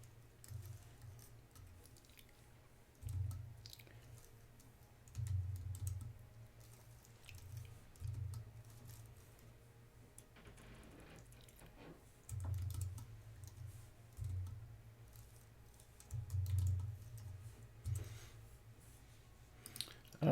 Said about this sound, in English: I'm gonna type them in here.